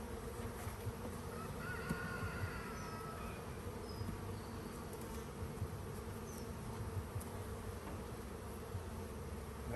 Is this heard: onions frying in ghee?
no